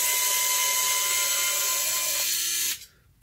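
Screwdriver working on the back plate of a small Strymon guitar pedal, a loud steady whirring drone close by that cuts off abruptly near the end, no talking.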